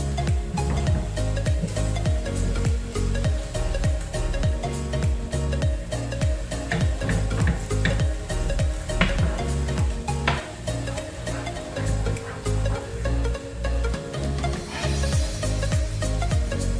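Black pepper powder stirred into a sizzling pan over a low flame, with a continuous frying hiss and repeated spoon scrapes in a steady rhythm, close and loud throughout without any talking.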